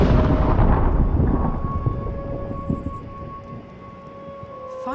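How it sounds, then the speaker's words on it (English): A deep explosion booms in the sky in the Dreamfall video game, loud at first, then its low rumble fades slowly beneath a sustained tonal hum. "Он говорит, это больше было похоже на взрыв в небе, чем на фейерверки."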